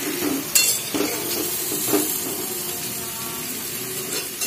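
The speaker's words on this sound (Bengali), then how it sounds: "এবারে ইঁচড় দিয়ে ইঁচড়টাকে একটু ভাজা ভাজা করে নেব" Raw jackfruit pieces frying in oil in a pan for a jackfruit pickle, a steady close sizzle with a few clinks and scrapes of a spoon stirring against the metal, no talking.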